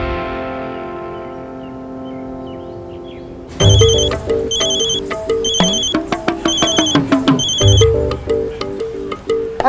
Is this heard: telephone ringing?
yes